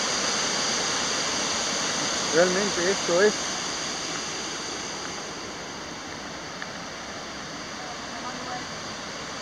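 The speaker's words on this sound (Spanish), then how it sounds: "tenemos este río allá que se une con el que viene de Valle Colorado" A mountain river rushes steadily at its meeting point with a stream from Valle Colorado, heard as a continuous broad roar along a trekking route in northern Argentina. A person speaks briefly over the water.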